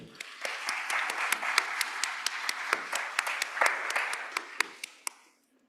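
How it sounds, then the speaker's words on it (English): A room full of people at a school board business meeting claps steadily in sustained applause for several seconds before it fades out abruptly. "I want everyone in this room to give themselves a big round of applause."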